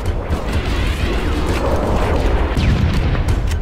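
A rocket launcher in a video game fires and its blast rumbles, a heavy, close booming explosion with crashing debris and mechanical clatter throughout.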